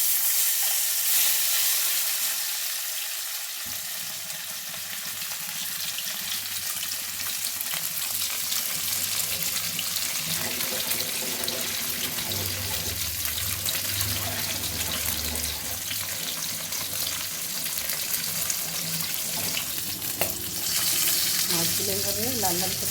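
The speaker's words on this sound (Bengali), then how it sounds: "এবার আমি মাছগুলো ভেজে নেব।" Fish pieces frying in a pan for a fish curry with spring onion stalks, a steady broadband sizzle that swells after a few seconds and holds close and loud, with faint kitchen clatter and running-water-like hiss.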